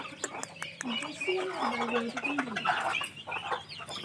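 Chickens and chicks gather to feed on rice at a village yard, giving clucks and high peeping calls in busy overlapping bursts, with a steady rustle of pecking and movement close by.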